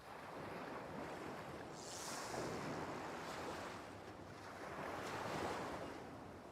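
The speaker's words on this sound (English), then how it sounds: "Hope you don't mind the sound of waves." Ocean waves rolling onto the shore in the video game Yakuza 3 Remastered, soft and distant surf washing in two slow swells with a breezy hiss between them, no voices.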